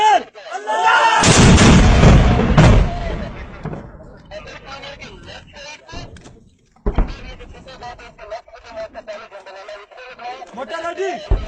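Pakistani army mortar firing: a loud, booming blast with a long rumbling tail, followed by further fainter reports, with shouted commands and voices over it.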